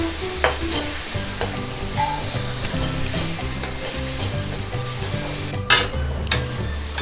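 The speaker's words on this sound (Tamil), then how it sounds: "அதையும் 2 நிமிஷம் பச்சை ஸ்மெல் போகிற வரைக்கும் வதக்கிக்கோங்க" Ginger garlic paste sautéing in a pan for a quick tiffin gravy gives a steady close sizzle with occasional spoon scrapes and taps, over soft background music and no talking.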